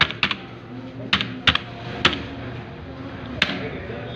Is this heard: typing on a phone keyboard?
yes